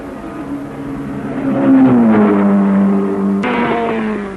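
The Rodriguez brothers' number 17 Ferrari, a private North American Racing Team entry, races in the 1961 24 Hours of Le Mans. A single loud engine note swells and revs as it tears past, then shifts abruptly near the end.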